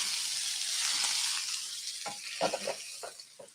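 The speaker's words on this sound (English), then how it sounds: "Got that nice sizzle." Beef filet steaks cut from a whole tenderloin sizzle loudly in a smoking-hot pan, a steady bright hiss that fades a little as sharp spatters and pops break through near the end.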